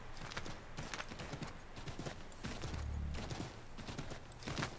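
Horse galloping in Assassin's Creed III, rhythmic hoof clip-clops repeating steadily across the whole stretch, fairly close, with a low thud in the middle and no talk over it.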